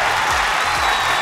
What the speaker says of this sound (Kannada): ಇಲ್ಲಿ ಜೋರಾಗಿ ಚಪ್ಪಾಳೆ ಹೊಡೀರಿ.